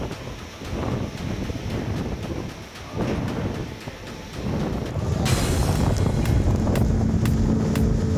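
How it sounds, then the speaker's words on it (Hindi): Strong storm winds blowing at 150 to 200 km/h make a loud, continuous roar and buffeting that swells in gusts and grows heavier toward the end. "तेज हवाओं का शोर शरीर में सिहरन पैदा कर देता है।"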